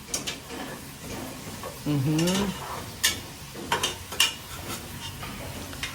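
A pot of tinola being stirred while cooking, with a few sharp utensil clinks and scrapes against the pot, and a brief voice partway through.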